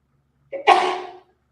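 A single sharp sneeze bursts out after a brief inhale, close and clear against near silence.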